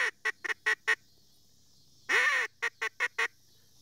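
A handheld duck call imitates a blue-winged teal with a rapid series of short nasal quacks, a longer drawn-out note, then another burst of clipped quacks, loud and close with no other sound.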